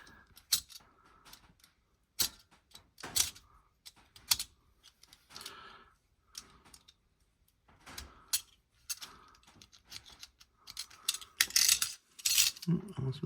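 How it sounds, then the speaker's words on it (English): A craft blade cuts into a plastic part for a custom Transformers Pretender Megatron figure, giving close, quiet, irregular clicks and scrapes in short bursts separated by pauses. "Now I just gotta slice this. Get out my trusty blade."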